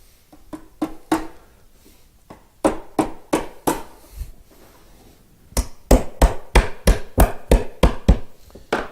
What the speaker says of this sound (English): let me tap this in